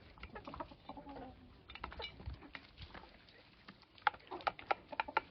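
Chickens cluck and peck at table scraps in short, scattered bursts, fairly faint and close, with soft rustling and tapping as they pick at the food.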